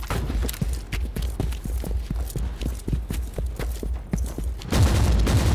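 A Warhammer 40k Inquisitor Martyr orbital strike lands as a rapid, rhythmic barrage of heavy thudding shots that ends in a louder rumbling burst.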